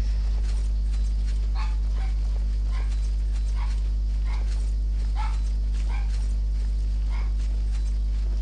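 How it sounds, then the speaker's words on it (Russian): Dogs bark in the video game Oblivion, a series of short, fairly distant yaps and woofs repeating at irregular intervals over a constant low game hum. "Собачки."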